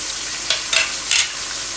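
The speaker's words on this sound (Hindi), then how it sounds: "अब इसमें मैं शामिल करूँगी 2 चॉप किए हुए टमाटर" Chopped tomatoes go into chicken karahi frying with black pepper, giving a steady sizzle with three brief louder bursts of stirring and spattering, close by and with no voices.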